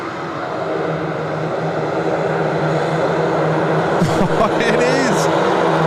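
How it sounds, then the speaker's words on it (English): A Beechcraft King Air turboprop at Sydney Airport fills the air with a loud, steady engine and propeller drone, while voices chatter over it toward the end. "The nicest King Air going around."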